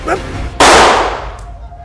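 After a brief bit of voice, a single loud gunshot cracks out nearby, its sharp blast ringing and fading over about a second.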